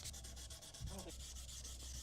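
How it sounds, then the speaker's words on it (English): A Scotch pad sands a car part with a steady, rhythmic scratchy rubbing in fast repeated strokes, close and continuous, over a constant background hiss. "So we're gonna sand this down"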